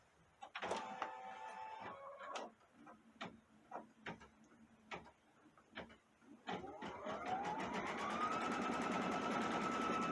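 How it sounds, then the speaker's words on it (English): A Brother Stellaire embroidery machine starts stitching the first color of an Easter egg design. Beeps and clicks come first, then the needle's rapid, steady mechanical chatter with a rising motor whine, close and continuous. "We're just going to start embroidering it out with that first color."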